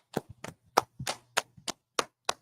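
A few sharp hand claps in an irregular rhythm, about ten distinct slaps, fairly quiet and close, with a faint low hum underneath and no talking.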